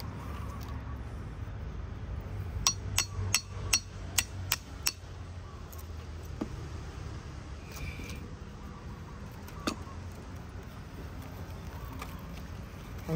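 A Dioon edule cycad seed is tapped to crack it, giving a quick run of about eight sharp, evenly spaced knocks near the start, then a few scattered single taps over low background rumble.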